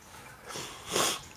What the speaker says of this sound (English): Pardon my sniffing.